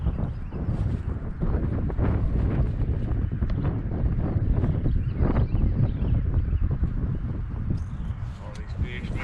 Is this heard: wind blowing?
yes